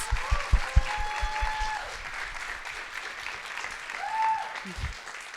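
An audience applauds speakers at a spring 2024 student narratives event, a steady patter of clapping across the room with a few voices calling out over it.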